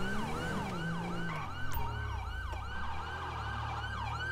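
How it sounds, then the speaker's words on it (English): Police siren from a patrol car in the GTA V LSPDFR police game, wailing steadily and loud through the whole stretch with repeating up-and-down sweeps over a low engine rumble. "I really don't want to hear a siren the whole entire time."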